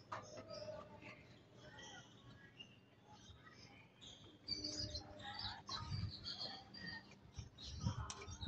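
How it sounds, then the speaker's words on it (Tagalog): Birds chirp and call faintly outdoors in scattered, overlapping tweets, with a low rumble of background noise. "Mukhang dadapo na mga kaibon"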